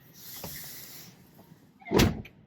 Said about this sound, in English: And the door closes.